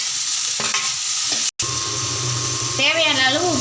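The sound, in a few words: tomatoes sizzling in oil with fried onions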